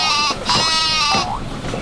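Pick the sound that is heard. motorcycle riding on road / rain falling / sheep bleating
sheep bleating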